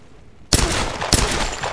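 Two sharp gunshots in the Tomb Raider video game, fired at a target: a sudden loud blast breaks a near-silent lead-in, and a second shot follows about half a second later over a lingering rumble.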